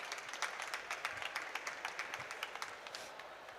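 Scattered audience clapping at the COP27 Youthadapt Awards ceremony, a moderate patter of individual claps heard at a distance, fairly quiet and without voices.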